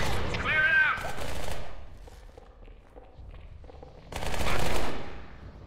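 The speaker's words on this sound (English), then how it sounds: "I hear bullets." Machine-gun fire in the game Halo 2, two loud bursts of rapid shots at the start and near the end, with softer scattered shots and footsteps between them.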